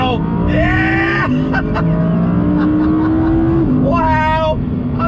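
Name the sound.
Audi R8 naturally aspirated V10 engine revving, downshifting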